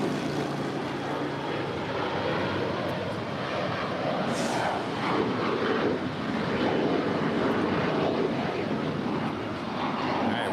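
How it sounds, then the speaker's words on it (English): Alaska SkyWest Embraer E175LR regional jet rolling down the runway on takeoff at a busy airport, a steady, loud broadband engine roar holding throughout with some wind rumble on the microphone. "Rolling down the runway here is an Alaska SkyWest Embraer E175LR that is flight 3499, taking off for a flight to San Francisco."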